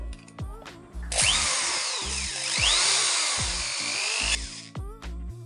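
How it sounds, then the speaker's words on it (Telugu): An iBell electric screwdriver whirs steadily for about three seconds as its chuck is loosened and tightened, framed by several short clicking bursts of the motor and chuck before and after, recorded up close. "మళ్ళీ ఈ చెక్ని టైట్ చేయాలంటే ఈ విధంగా గేర్ అయితే ఫార్వర్డ్ చేసుకొని మళ్ళీ టైట్ చేసుకోవాలి."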